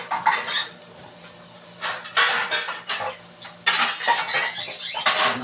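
Metal lid and pot clatter on a stove while chicken tinola cooks: repeated close scraping and clinking bursts with short pauses between, fairly loud, no talking over them.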